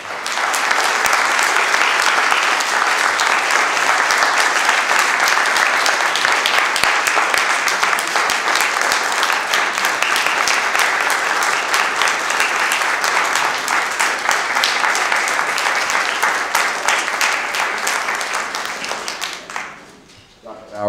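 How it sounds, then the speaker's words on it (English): Sustained, loud applause from a large lecture audience for a panel, dense clapping that continues steadily for about twenty seconds before fading out at the end. "Let's give our panelists a big round of applause"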